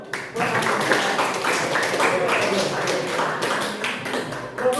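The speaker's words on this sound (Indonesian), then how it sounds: "Tepuk tangan dong." A school class claps hands together during an economics lesson, producing a burst of overlapping claps that holds steady for several seconds, with faint voices mixed in.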